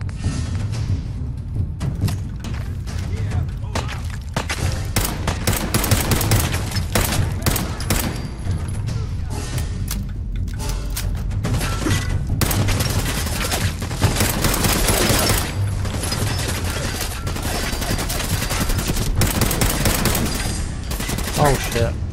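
Dense, sustained gunfire in Fallout 4, with rapid automatic bursts and overlapping shots running almost continuously, loud and close, with occasional talk mixed in.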